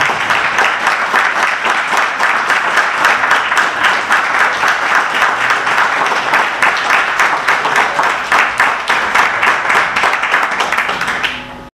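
A meeting audience breaks into sustained applause, dense rhythmic clapping that stays loud and even for over ten seconds before tapering off abruptly.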